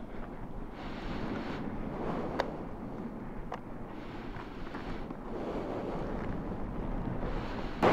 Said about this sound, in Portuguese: que filho da puta de vento